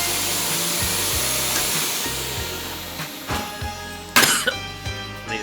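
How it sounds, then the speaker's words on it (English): A Hoover vacuum cleaner switched on by accident makes a steady, loud motor whine that runs throughout, with a few bumps and knocks near the end. "I've accidentally put my Hoover on."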